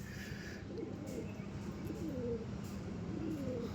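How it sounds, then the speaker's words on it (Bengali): Pet pigeons coo softly after landing, a few low rolling calls repeating nearby over a steady outdoor background hiss. "5টা পায়রা উড়িয়েছিলাম, ওরা নেমে গেল একটু আগে।"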